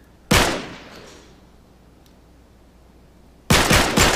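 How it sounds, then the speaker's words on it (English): Two loud, close gunshots blasting a lock in Uncharted 3, the first ringing out and fading over a few seconds before a second sharp burst of shots. "Back up, I'll shoot the lock."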